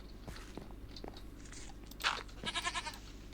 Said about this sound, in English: The goat is already here eating.